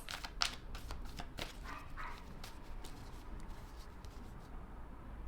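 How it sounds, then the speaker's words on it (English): A dog barks repeatedly in short, sharp bursts, fairly close, with a few higher yips mixed in against steady background noise. "Always barking, always."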